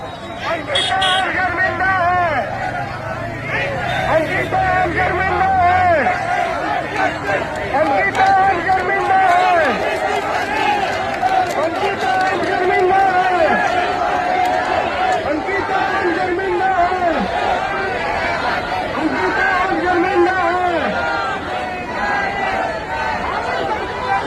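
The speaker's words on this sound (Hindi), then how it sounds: "ये देखो भीड़" Crowd of people on a street, a dense babble of many voices with shouting and calls, loud and continuous throughout, some voices rising sharply above the hubbub.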